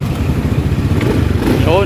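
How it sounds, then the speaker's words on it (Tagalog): A Honda Beat scooter engine idles close and loud after an internal carbon cleaning for a low-power fault, a steady rough putter with someone speaking briefly over it. "start na natin yung makina para ma-idle na siya"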